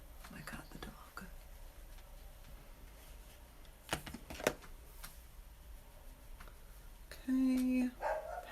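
A dog gives a short, whining bark toward the end, after a few sharp knocks, in an otherwise quiet indoor room with soft background hiss.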